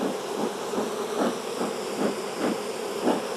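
Honey bees buzz in a steady, dense drone around an open hive during a swarm-cell inspection, with soft pulsing swells roughly every half second and no voices.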